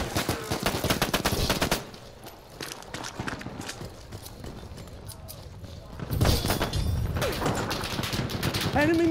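Machine gun fire in the battle video game Battlefield 1, rapid bursts of loud automatic shots at the start and again toward the end, with voices talking through the calmer middle.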